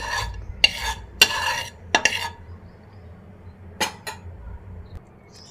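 Semolina frying in ghee in a kadai with bay leaf for halwa, stirred in a few sharp separate scrapes and knocks against the pan over a faint low sizzle, with quiet gaps between strokes.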